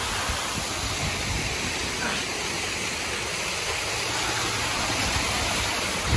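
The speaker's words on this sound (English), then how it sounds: "Glacier water." Glacier meltwater pours down a waterfall in Alaska, a loud, steady broadband roar of rushing water that fills the whole stretch without pause.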